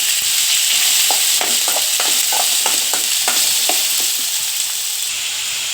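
Chopped onions and cumin fry loudly in a pan for onion samosa filling. A steady close sizzle runs throughout, broken by repeated scraping taps of a spoon stirring.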